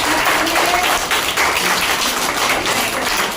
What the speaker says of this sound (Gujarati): આપણે ખૂબ તાળીઓ પાડીએ